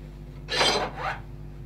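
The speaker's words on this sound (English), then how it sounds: "We're going to do some filing, and that seems okay." A coarse file rasps across a soft lime wood walking stick in two short close strokes, the first louder and longer, against a quiet background.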